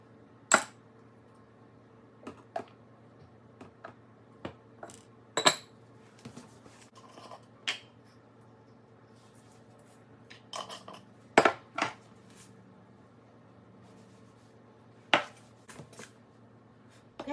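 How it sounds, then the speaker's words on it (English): Sliced food is dredged through salt, pepper and garlic powder seasoned flour in a dish, giving sparse, quiet clinks and taps scattered over a near-silent background. "now I'm going to dredge it in some seasoned flour"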